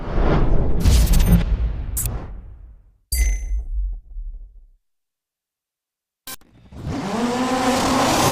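Ford Focus ST T16 4x4 rallycross car with 560 brake horsepower, driven in DiRT 3: loud, close engine bursts with revving and clanks, then a silent gap, then another rising engine roar.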